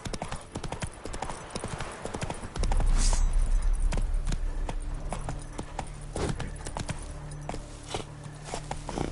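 The horse Roach in The Witcher video game gallops with quick, rhythmic hoofbeats that swell in loudness partway through, over a low rumble and a steady game background.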